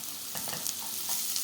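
Carrot and pepper sauté in a pan for a vegan pea dish, a steady close sizzle broken by soft intermittent stirring scrapes.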